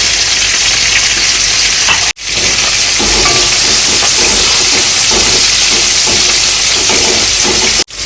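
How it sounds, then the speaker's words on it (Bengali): Black cumin and garlic hit hot oil left from frying prawns, a tempering for taro-leaf greens, giving a loud, steady close sizzle and hiss with two brief dropouts. "চিংড়ি মাছ ভাজার তেলে কচুর শাকের জন্য কালো জিরে আর রসুন ফোড়ন দিলাম"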